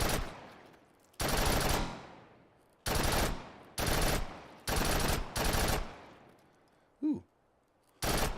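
A Thompson submachine gun firing in the H3VR video game, several short loud automatic bursts separated by brief pauses, each burst ringing out and decaying; a person briefly exclaims between bursts.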